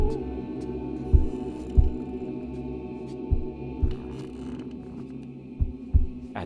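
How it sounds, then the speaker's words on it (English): Muffled, low heartbeat sound effect in a dramatic reading of Poe's The Telltale Heart, soft dull thumps spaced irregularly over a steady low hum, with no voices. "the heart beat on with a muffled sound."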